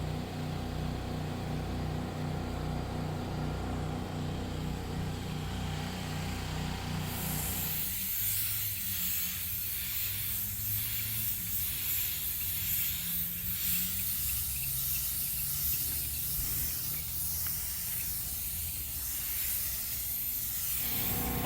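A paint spray gun applies pearl coat to a cracked Lincoln MKZ bumper during a mobile repair in Phoenix, Arizona: a loud steady hiss that carries on for about fourteen seconds after a low engine-like drone at the start.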